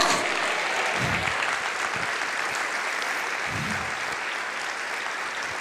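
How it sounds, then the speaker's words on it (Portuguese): A church congregation applauds in a dense, continuous wash of clapping that holds steady and loud throughout, with no talk over it. "Aplauda o Senhor, diga: eu creio."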